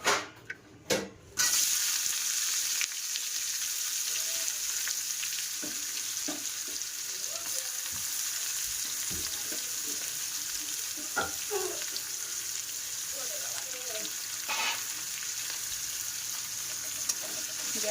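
Onions sizzle and fry in a pan for a mutton curry. The hiss is loud and steady, with occasional stirring clinks, and a few sharp knocks come at the very start.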